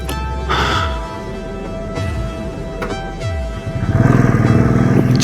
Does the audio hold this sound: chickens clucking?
no